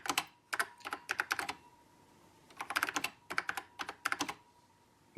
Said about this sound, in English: Now I will just quickly test the keyboard, because I remember that there was some problem with it.